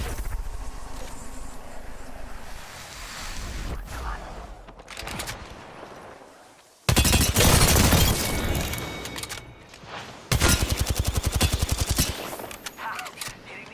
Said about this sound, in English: Smart bullet firing.